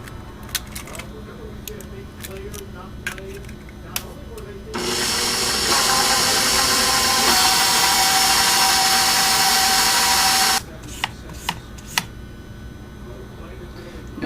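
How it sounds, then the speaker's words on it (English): An electric hand mixer beats fudge batter with two added eggs in a home kitchen, a loud steady whir running alone for about six seconds, bracketed by quieter clicks and handling noise. "You'll need to stop the mixer every once in a while and scrape it down."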